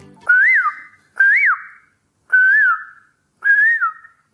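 A person whistles an imitation of the Asian koel's call, four clear rising-and-falling whistled notes evenly spaced, close and alone.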